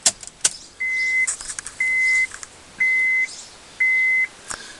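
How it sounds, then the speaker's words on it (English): Honda Civic Hybrid with its ignition switched on: four evenly spaced, steady electronic chime tones ring out clearly over a low idle hum, with a few short clicks at the start and end. "So I'll turn the ignition on."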